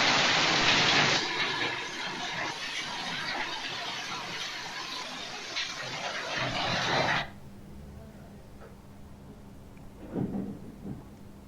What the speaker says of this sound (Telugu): నిన్న రాత్రి కురిసిన భారీ వర్షం హైదరాబాద్ ను వణికించింది